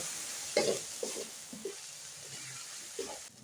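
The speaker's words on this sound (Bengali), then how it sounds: "এখন আমি মশলাগুলো ফ্রাই করে নেব" Ground coriander, cumin, turmeric and chili powder fry in a pan with a steady close hiss and sizzle, broken by a few soft scraping stirs.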